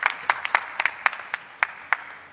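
Scattered claps from a small part of the audience at Brazil's COP30 climate event, a few hands striking unevenly in sparse bursts rather than a full ovation, fairly close and without talk.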